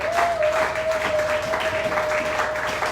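A church congregation applauding together, a dense continuous clapping that stays loud throughout, with a sustained tone and faint voices mixed in.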